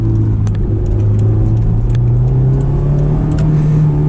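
Honda S2000 engine rumbling steadily and loud from close by, a continuous throaty drone held evenly throughout with no talking.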